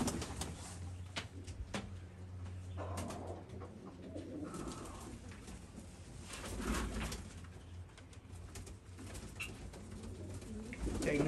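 Several pigeons keep up a dense, overlapping cooing at close range, the low calls rising and falling with occasional sharp knocks and scrapes in between.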